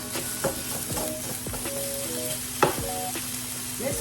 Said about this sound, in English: I'm browning this up, guys. Chopping it and browning it all at the same time.